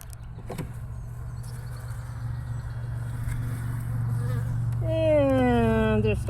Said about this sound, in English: we got an empty frame here with a bunch of bees on the bottom